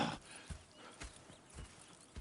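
Horses in Red Dead Redemption 2 clip-clop in a steady trotting rhythm of hoofbeats, with a whinny at the start, heard fairly softly.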